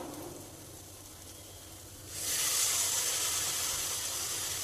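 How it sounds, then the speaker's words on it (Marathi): Broccoli pieces drop into a hot pan of cooked onion and tomato, setting off a sudden loud, bright sizzle that jumps up and holds as a steady close hiss. "आता ह्याच्यामध्ये आता आपण ब्रोकोलीचे तुकडे टाकून घेऊयात।"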